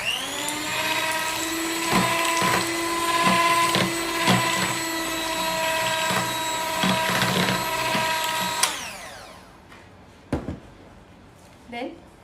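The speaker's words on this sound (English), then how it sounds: "mix it nicely with a whisk or hand beater." A hand beater or whisk mixes butter for brownie batter. A steady whirring motor hum carries on for about nine seconds with small knocks against the bowl, then cuts off, followed by a few isolated clunks.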